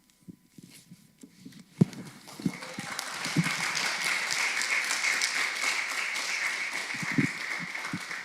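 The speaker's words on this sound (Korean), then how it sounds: "우리가 박수로 환영해 주시기 바랍니다." Audience applause at a university church service welcoming a speaker, beginning with a few scattered claps and swelling into sustained, even clapping that continues steadily to the end.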